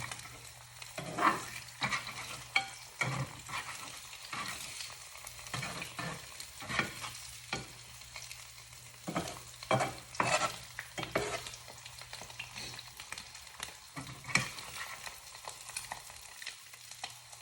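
An egg frying in a pan gives a steady, close sizzle and crackle, punctuated by frequent short clicks and pops that come and go, with no voices.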